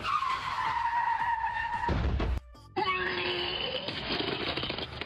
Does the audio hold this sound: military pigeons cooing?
no